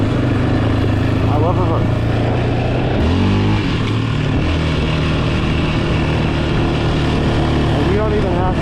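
A Yamaha Raptor 700 ATV running on woodland trails gives a loud, close engine drone with shifting pitch and short throttle changes, while a rider talks over it.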